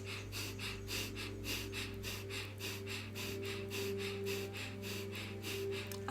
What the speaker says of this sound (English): So starting our breath of fire for 3 minutes.